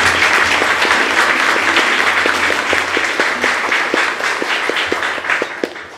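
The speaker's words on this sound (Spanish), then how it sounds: "Démosle un fuerte aplauso." A church congregation applauds loudly at a quinceañera ceremony, a dense, steady wash of many hands clapping that holds for the whole stretch before thinning slightly at the end.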